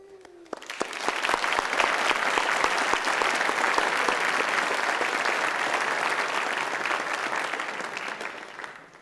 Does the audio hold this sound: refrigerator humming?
no